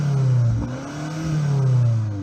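Close and loud, a BMW X6 M SUV's engine revs, swelling and dipping twice with a brief drop in the middle and no voices over it.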